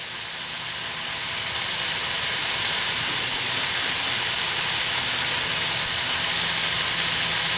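Onions tipped into a hot pan of beef taco meat in a small RV kitchen, a loud, steady broadband sizzle that rises within the first second and holds evenly to the end.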